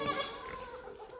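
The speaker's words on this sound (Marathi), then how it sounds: "15 बकऱ्या आहेत, 2 बोकड आहेत आणि 12 पिल्ले आहेत." Goats on a goat farm bleating, one close, wavering bleat filling the short moment with faint background sounds.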